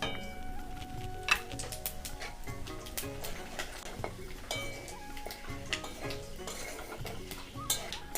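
Bay leaf, two dried red chillies and Bengali five-spice tempering in hot oil in a pan, heard as a low steady sizzle under repeated clinks and scrapes of a utensil stirring against the pot.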